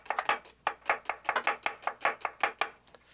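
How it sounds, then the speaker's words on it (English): Thin slices of red onion cut with a knife on a board, a fast steady run of crisp chopping strokes, close and clear with no talking. "I'm going to put a bit of red onion. And I want to slice it thin like this."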